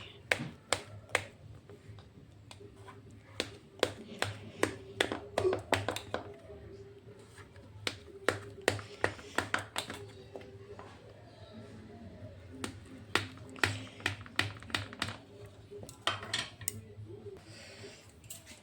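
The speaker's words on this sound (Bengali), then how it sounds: "তারপরে এই দিক থেকেও কেটে দিচ্ছি" A knife cuts steamed chickpea dhokla into pieces in its tray, giving many sharp, close clicks and taps in uneven bursts, with a voice faintly present in the background.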